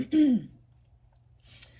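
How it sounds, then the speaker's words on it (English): A single short, voiced throat clearing up close, a brief guttural rasp at the start, followed by near silence and a faint breath. "I need to clear my throat."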